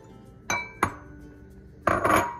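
A utensil knocks against a bowl while desiccated coconut and all-purpose flour are stirred together for ube coconut macaroons. A few separate close clinks and scrapes sound over an otherwise quiet kitchen.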